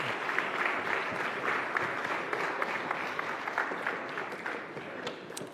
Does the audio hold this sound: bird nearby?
no